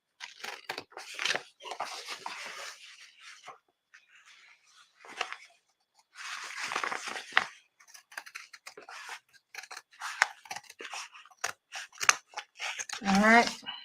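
Scissors cut through fabric for a holiday craft, from seam to seam near the waist of a garment. Bursts of crisp snipping and crinkly rustling come in uneven runs with pauses, close up, while a person talks between cuts.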